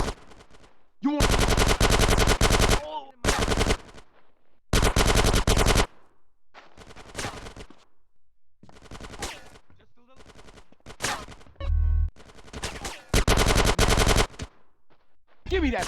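Automatic gunfire rattles in the GTA San Andreas video game, long loud bursts of rapid shots broken by brief gaps, with scattered single cracks and shouted voices between volleys.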